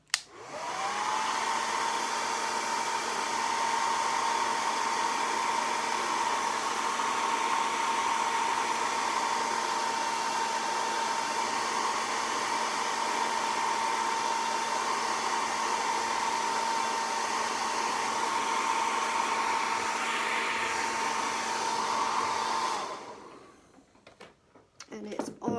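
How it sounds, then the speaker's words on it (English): A hair dryer blows on a painted craft project meant to look rusty, a loud steady whine and rush that runs for over twenty seconds before cutting off abruptly. "I've got to do another blast of the dryer"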